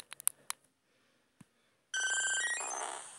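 Vaporeon's cry in the Pokémon Go mobile game, preceded by a few short electronic taps and clicks, then a bright warbling synthetic call of about one and a half seconds that bends downward and fades.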